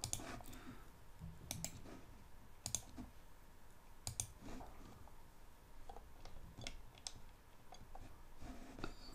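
Scattered light computer mouse clicks in irregular bursts, faint and close, against a steady low background hum while someone works in windPRO software; no talk.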